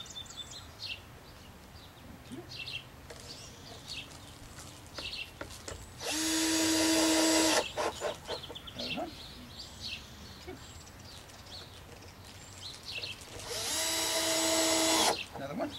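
A power drill drives screws into a wooden bat house under construction, two loud whirring bursts a few seconds apart, with quieter handling noise, faint birdsong and people talking in between.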